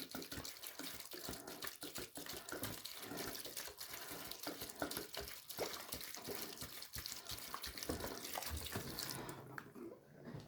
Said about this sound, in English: I'll take my water bottle and I'll do it from the bottom. I'll put about 1 inch of water in this tray.